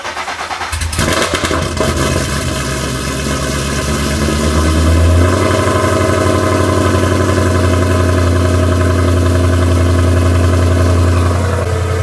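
A supercharged Mustang engine with a Whipple supercharger cranks and catches, then settles into a loud, deep, steady idle with a low rumbling drone that runs unbroken to the end.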